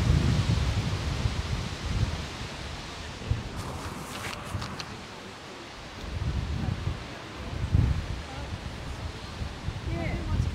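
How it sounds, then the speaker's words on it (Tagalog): Strong gusting wind at an outdoor tulip festival, a broad low roar swelling and easing in waves, loud and close against the microphone, with brief faint voices in the background. "Lakas ang hangin."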